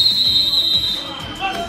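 A coach's whistle gives a sustained, bright blast to start a football workout, sounding for about a second in a gym with scattered background noise and low thuds.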